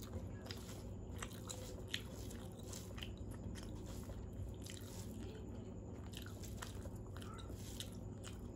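Close, quiet mouth sounds of someone eating rice with fried kakrol, soft wet bites and chewing repeating steadily over faint background hum, no talk.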